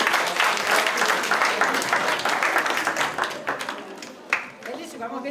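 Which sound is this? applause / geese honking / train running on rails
applause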